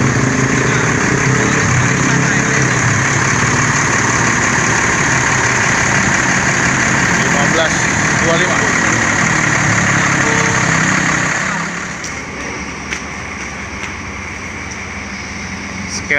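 A Sipirok Nauli electric bus runs near at an idle, a loud steady drone with a broad whirring hum that drops in level toward the end, with faint voices underneath.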